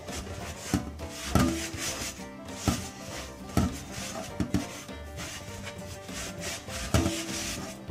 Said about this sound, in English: I'm going to run a little bit of abrasive on it for anything that might possibly be sticking